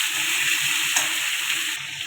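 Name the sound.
stirring papaya, potato and fish curry in a pan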